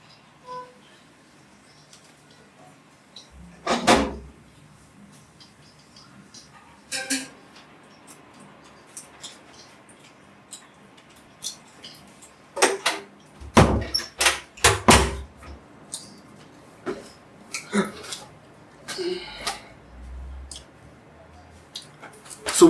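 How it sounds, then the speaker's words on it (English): Doors closing indoors: a run of sharp, loud knocks and clicks at irregular intervals, some in quick clusters, with quiet room tone between them and no talk. "let me close the doors"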